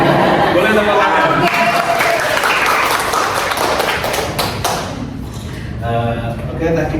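A small group in a classroom counselling session claps hands, a busy burst of close, uneven claps and taps that thins out after about five seconds, with voices and chatter mixed in.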